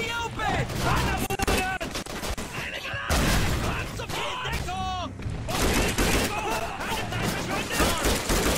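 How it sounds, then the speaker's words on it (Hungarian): Dense gunfire in the Call of Duty 3 video game: rapid automatic bursts and crackling shots pile up continuously with explosive impacts, loud and chaotic, while a voice shouts excitedly over the battle. "Na, nem bírom az ilyen lövéseket!"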